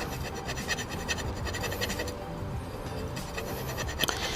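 A spoon scrapes a coffee stain off a glass roast chamber, giving continuous rapid gritty scratching strokes, close and fairly loud, with a brief sharp clink near the end.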